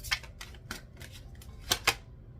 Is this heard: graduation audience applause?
no